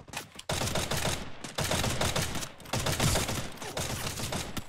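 Rapid automatic gunfire from the Free Fire video game comes in loud, dense bursts separated by brief gaps, with no talking over it.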